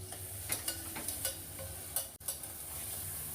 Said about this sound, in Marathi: आता हे फास्ट गॅस करून ना यांना चांगलं हलवायचं.